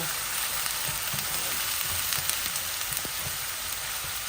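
Onions frying in oil in a Bengali kitchen, alongside a tengra fish bhuna, give off a constant, dense crackling sizzle with faint clicks of a spoon, close and unbroken, with no voices.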